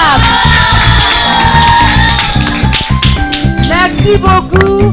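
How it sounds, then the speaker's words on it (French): A crowd of children at a church kindergarten gathering cheers, whoops and claps loudly for a nun, with rapid hand taps and excited shrill shouts rising close by for several seconds. "On applaudit la sœur, on accompagne la sœur avec encore assez d'acclamations,"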